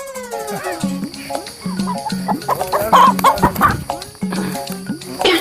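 Chickens cluck and a rooster calls in a repeated, close, fairly loud pattern of short calls, with some voices and commotion mixed in.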